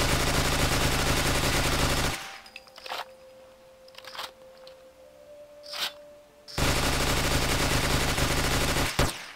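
FAMAS rifle firing in a modded Fallout 4 game, rapid loud bursts of automatic gunfire at a very high rate, broken by a quieter stretch of a few isolated clicks and shots before the sustained firing resumes.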